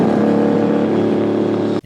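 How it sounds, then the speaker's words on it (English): Engine of the 2023 Cadillac Racing V Series R endurance prototype in Forza Motorsport, a loud sustained engine note holding steady before cutting off abruptly. "The first thing you're greeted with is the 2023 Cadillac Racing V Series R, a glorious machine that makes heavenly sounds such as this"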